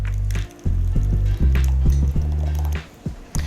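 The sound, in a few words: gazpacho cold soup poured into a bowl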